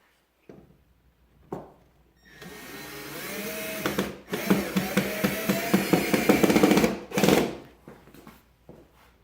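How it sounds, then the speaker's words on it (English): A power drill drives screws through pre-drilled holes in a mantel shelf into drywall studs, with several whirring bursts of rising and falling motor pitch between quiet pauses and knocks. "now we're just going to screw the shelf to the studs in the drywall"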